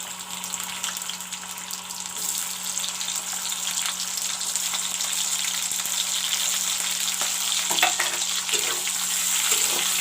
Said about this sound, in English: I will put this bay leaf in and put in the cut up onions.